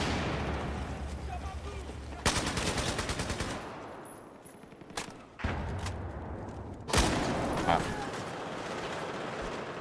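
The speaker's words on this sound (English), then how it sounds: "I just got killed by a shotgun" Shotgun fire in the Battlefield 4 video game on PS4, with several loud sharp blasts and bursts of gunfire cutting through continuous game noise, while players talk over it.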